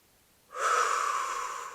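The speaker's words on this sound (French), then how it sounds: "On fait encore une fois une grande inspire." A single deep, slow inhale taken during a relaxation exercise for children, starting after a brief silence and holding as a steady, close, airy breath that fades slightly toward the end.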